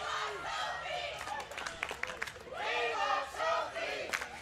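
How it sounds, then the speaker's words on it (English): Mercy supporters at a high school hockey playoff game chant a rhythmic 'We Love Sophie' cheer, a loud, repeated crowd chorus with swelling phrases that fills the rink, with scattered claps and shouts between. "a We Love Sophie cheer breaking out among the Mercy faithful"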